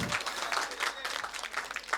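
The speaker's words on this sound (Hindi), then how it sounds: "जोरदार तालियां आपके लिए।" An audience at a Sanskrit quiz during the Mahakavi Magh festival gives a brief burst of hearty applause. Many hands clap together for about two seconds, with a few voices mixed in.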